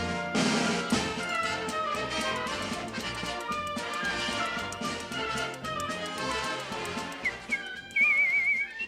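A whistled rendition of a melody carries over fuller instrumental music, the clear sustained tones rising near the end.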